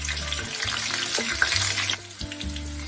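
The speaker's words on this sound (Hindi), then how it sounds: "दूसरे तरफ से भी पलट के इसे हम फ्राई कर लेते हैं" Jackfruit pieces frying in hot oil, a loud bubbling sizzle with stirring and turning sounds, easing briefly near the end before resuming, heard up close with no talking.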